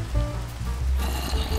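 Steady rain falls in the Minecraft video game, a continuous hissing patter that grows slightly brighter partway through, with no voices.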